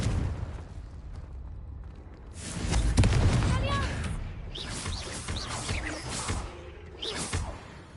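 A Confringo explosive spell blast in Hogwarts Legacy on PS5 booms out in a cave setting, with a rising whoosh and bursting impact followed by crackling magical debris and lingering rumble, a voice speaking over parts of it.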